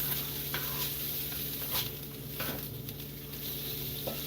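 Spicy Italian sausage sizzling and frying in a pan for a keto mushroom pizza, a steady close crackle with occasional stirring scrapes and no talking.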